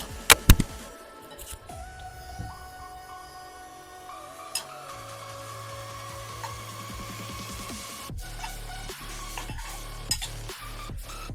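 Fried bitter gourd tipped into a sizzling gravy and stirred, opening with a few sharp metallic clanks, then a steady frying hiss under scraping spoon strokes against the pan.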